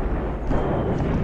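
A counter-battery artillery explosion in a war strategy video game produces a brief, heavy, low rumbling blast with a dense, broad roar lasting about a second.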